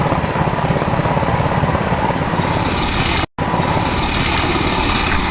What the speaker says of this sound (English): soon board an HS-60 Seahawk helicopter and leave Nimitz